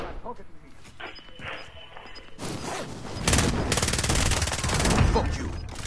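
Sustained automatic gunfire in a battle royale shooter, rising from scattered shots into dense, loud rattling bursts over the second half, with voices talking throughout.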